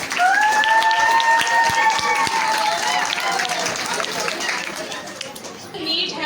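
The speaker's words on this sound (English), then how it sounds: "Please थोड़ी सी clapping कर दें." Sustained audience applause at a school annual prize distribution ceremony, a dense, steady wash of many hands clapping close by, with a brief whistle-like tone riding over the start.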